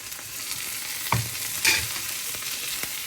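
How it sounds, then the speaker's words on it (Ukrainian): Onion with frozen carrot frying in a pan for borscht, giving a constant low sizzle close by, broken by a few brief scraping knocks from the stirring, with no talk. "Так, наша цибулька вже дожарюється. І ми кидаємо нашу заморозену морку."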